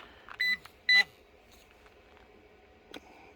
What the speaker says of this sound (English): This rock right here set off my metal detector.